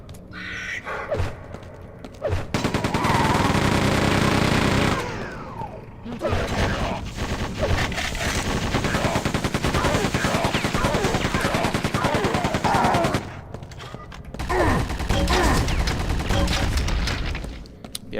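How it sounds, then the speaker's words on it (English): Machine gun fire in the game Quake 2, loud sustained bursts of rapid automatic shots broken by a few short pauses, close and dominant. "Machine gun."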